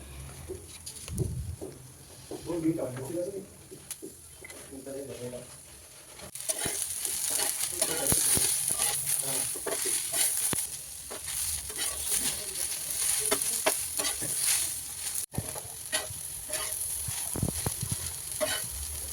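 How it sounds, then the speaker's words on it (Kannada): Cut okra frying and being stirred in a pan, a continuous close sizzle with scraping and clinking of the spatula, starting quieter then growing fuller and steadier, with small knocks throughout. "ಇವಾಗ ನಾನು ಇದು ಬೆಂಡೆಕಾಯಿನ ಹುರ್ಕೊಳ್ತೀನಿ"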